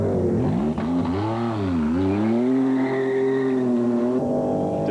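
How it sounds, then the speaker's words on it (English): A 1993 Jaguar V6 turbo IMSA GTP race car at Road America, its engine loud and close, pitch rising and dipping through revs before settling into a sustained high-revving drone that cuts off near the end. "Distinctive sound of a V6 turbo engine in the Jaguar."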